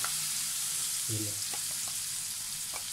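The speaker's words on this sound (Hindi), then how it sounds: "एक चम्मच मैं इसमें मैदा डाल दूँगा। मीडियम फ्लेम पर हम इसे बनाएंगे, और इसे मैं अच्छे से थोड़ा सा भून लूँगा।" Onions and flour frying in a pan over a medium flame, a constant hissing sizzle with a brief low clatter and a few soft stirring taps, no speech.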